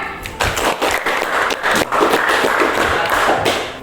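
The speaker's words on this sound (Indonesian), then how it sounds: "Tepuk tangan." Schoolchildren in an Indonesian classroom clap for a classmate after a short presentation, a brief burst of uneven, close hand claps with a few thumps mixed in.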